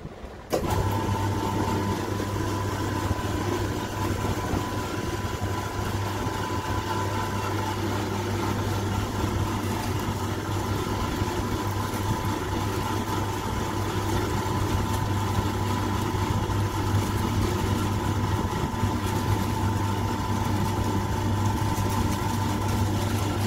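A mixing machine churns biscuit dough made from whole wheat flour, giving off a steady, continuous motor hum with a constant low drone that runs unchanged from start to finish, with no talking.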